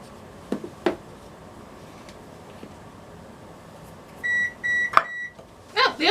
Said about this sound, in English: Oh, the oven is finished preheating.